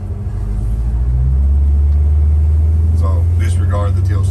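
A 1970 Chevrolet C10 truck with an LS engine swap pulling away, its engine rising into a loud, steady low rumble heard from inside the cab, with a voice briefly near the end.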